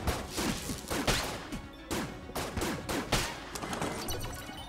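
Rapid bursts of video game gunfire from a weapon in Enter the Gungeon, sharp repeated shots in quick uneven volleys with short pauses between them, loud and close.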